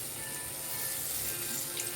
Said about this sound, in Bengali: এই যে বাটিটা ধোয়া যে জলটা, সেটাও আমি ইউজ করবো